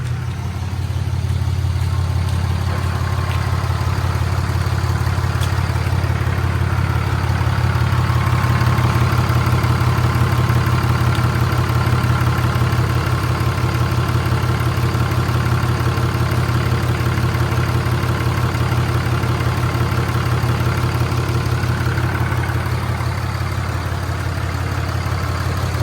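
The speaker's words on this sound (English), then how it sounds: "And that's to get the big truck to start." A second-generation Cummins diesel engine in a big truck idles steadily, a loud, close, low mechanical rumble with an even rhythmic knock that holds unchanged throughout, with no voices.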